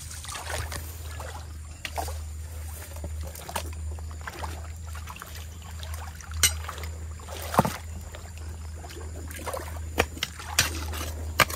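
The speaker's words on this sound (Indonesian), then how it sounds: "terdengar ya pasir dan bebatuannya" Gritty scraping and crunching of sand and stones being scooped underwater from a riverbed, with scattered clacks and splashy trickles over a low watery rumble.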